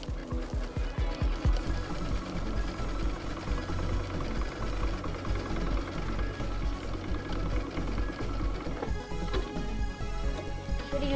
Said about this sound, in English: you're just gonna run a zigzag stitch along the edge of the elastic attaching the fabric.